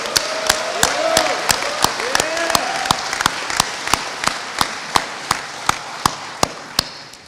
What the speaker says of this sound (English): if everybody will join me in another round of applause for our newest cadets